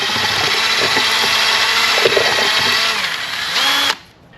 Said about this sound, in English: You're going to want to use a drill.